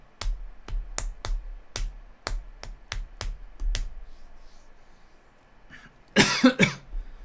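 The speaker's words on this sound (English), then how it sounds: "Tickly cough. We don't want one of them." A series of about ten dry coughs in an uneven rhythm, fairly close, followed after a pause by a louder throat-clearing burst.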